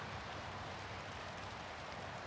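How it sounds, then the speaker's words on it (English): Light rain patters steadily on a tarp sheltering sleeping bags at a windless motorcycle campsite in Montana or Wyoming, a soft continuous hiss with no distinct drops standing out. "There's absolutely no wind and it's raining very lightly."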